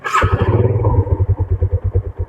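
A 2005 Yamaha Jupiter Z motorcycle fires up on its electric starter: a brief whirring crank, then the small engine catches and settles into a loud, close, steady rapid putter at idle.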